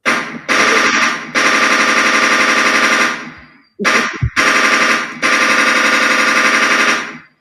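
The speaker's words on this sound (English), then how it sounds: "Where are your gunshots when you need them?" Bursts of rapid automatic gunfire sound effects, loud and dense, in several long sustained volleys separated by short gaps, with no talking.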